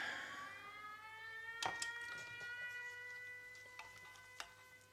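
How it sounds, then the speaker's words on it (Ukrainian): Wailing air raid alarm siren warning of an air attack, rising and falling in long sustained tones heard from a distance, faint and steady, with a few sharp clicks close by. "Повітряна тривога. Пройдіть найближче укриття."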